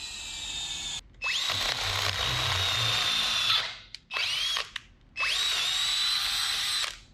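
A Harbor Freight power drill whines loudly in three long bursts separated by short pauses, with a brief blip between the second and third runs.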